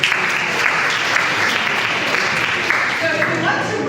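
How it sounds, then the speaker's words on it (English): An audience at the Tanzania Health Summit claps together in sustained, dense applause that stays loud and even for several seconds. "I think you should clap for the progress that has been made."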